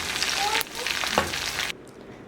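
Asafoetida dropped into hot oil for a South Indian tempering with curry leaves, giving a loud, steady frying sizzle that cuts off abruptly near the end.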